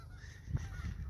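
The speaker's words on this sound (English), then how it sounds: "The geese love to hang out over there." A goose honks once, faint and distant, in a short outdoor moment with low background rumble.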